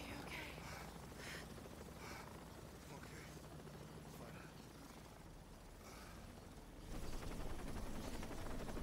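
A helicopter in a video game gives a low, steady rotor drone and rumble throughout, getting noticeably louder near the end, with people talking over it at times.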